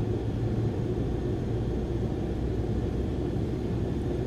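Cessna 152 engine in Microsoft Flight Simulator 2020, a steady, dense low propeller-engine drone with a broad rumbling hum, continuous and unchanging throughout, with no talk.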